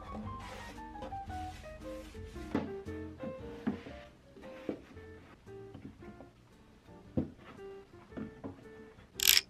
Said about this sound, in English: I went through our nightstands to remove any clutter and wipe down the inside of the drawers.